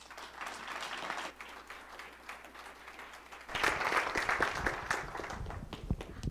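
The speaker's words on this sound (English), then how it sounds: "give her another round of applause." A crowd applauds steadily at a distance, the clapping swelling louder and fuller partway through and continuing without any talking.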